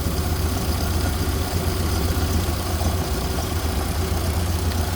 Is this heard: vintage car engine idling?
yes